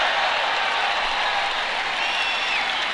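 A large crowd at a Trump rally roars and chants steadily for the full stretch, dense and loud with no pauses, like applause and cheering filling an arena.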